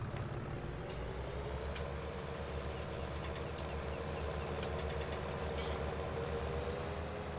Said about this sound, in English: I think we need this tractor for the ploughing.